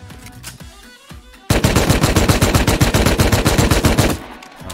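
Quiet rumbling, then a sustained burst of rapid automatic gunfire in the video game Rust lasting about three seconds, loud and close, before it cuts off.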